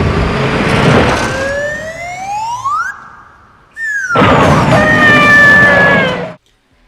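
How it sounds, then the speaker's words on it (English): A cartoonish slide whistle from The Man with the Golden Gun swoops upward in two loud, long rising glides separated by a short silence, over a noisy action backdrop. "the slide whistle sound effect still is one of the most infamously bad"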